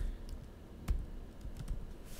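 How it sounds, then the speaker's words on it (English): Keys on a computer keyboard click softly, and one sharper keystroke, the Enter key, stands out near the start against a quiet room. "I'm pressing enter on the keyboard"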